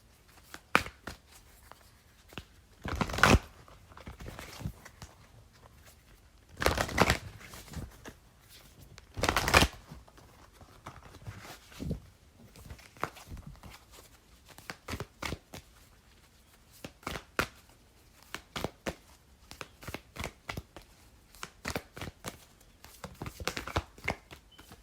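A Goddess Power oracle card deck is shuffled up close, several longer riffling bursts early on, then many short quiet flicks and taps with gaps between.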